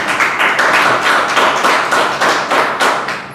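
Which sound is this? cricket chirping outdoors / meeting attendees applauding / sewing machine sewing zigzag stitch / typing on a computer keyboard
meeting attendees applauding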